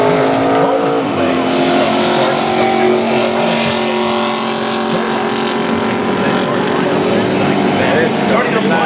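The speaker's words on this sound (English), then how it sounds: "Cars are on the track. We are set to go. Parade and pace laps." NASCAR race cars on parade and pace laps at Daytona for the 2015 Coke Zero 400, engines droning in a loud continuous rumble with shifting pitch, an announcer talking over them.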